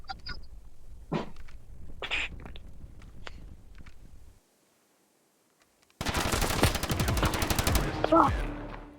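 Rapid bursts of automatic gunfire in a video game duel crackle loudly after a short silence, with earlier sharp shots and scattered noises before the pause.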